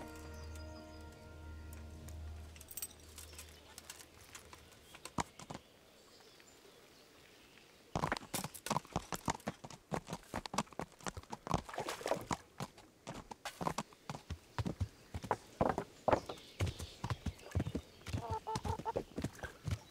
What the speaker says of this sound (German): Jetzt holen wir uns ein Pferd.